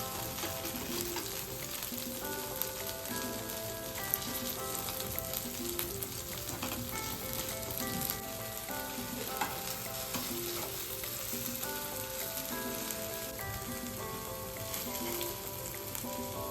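Paneer tikka pieces frying in oil on a tawa, a continuous close sizzle with faint scraping, alone except for tonal background music running throughout.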